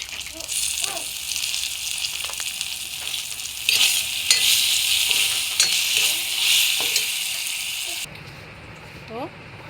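A little onion goes into hot oil and fries with a strong, steady hiss while being stirred, with occasional scrapes. The sizzle cuts off abruptly near the end, and a voice is briefly heard.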